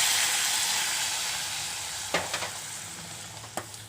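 Spices are stirred into a pot of hot pepper rasam. A steady steamy hiss fades slowly, and two or three brief scraping stirs stand out near the end, close and fairly quiet.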